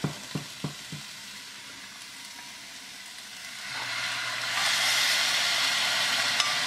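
Sauce is poured into vegetarian pad thai in a hot pan: a few utensil taps at first, then the frying swells into a louder, steady sizzle that holds to the end, close by.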